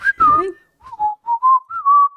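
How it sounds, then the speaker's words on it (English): A short whistled tune of several clear, sustained notes follows a brief vocal sound at the start, loud and close. "I love that you both just start whistling."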